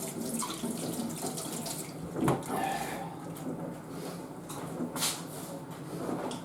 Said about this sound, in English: Just let me wash my fingers.